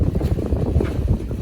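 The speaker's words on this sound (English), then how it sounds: "We got some good wind, so we don't have engines on." Gusty wind buffets a sailing catamaran running under sail with engines off in Greece, heard as an uneven low rumble pressing close on the microphone, with no talk.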